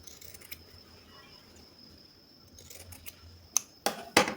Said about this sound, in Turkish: Şöyle kenarlarından az bir şey kesiyorum.